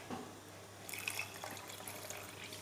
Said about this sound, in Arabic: دوكا هنا انا حابه نزيد له شويه الماء